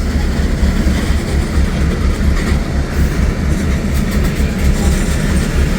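Rail cars being switched the old-fashioned way in a flat yard with no hump roll past close by, a loud continuous rumble of wheels and couplings with faint clacking and no talk.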